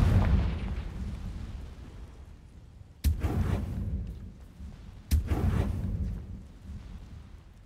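Confringo fire spell blasts in Hogwarts Legacy: three separate booming explosions, one at the start and two more a couple of seconds apart, each hitting sharply and then fading into a rumbling tail.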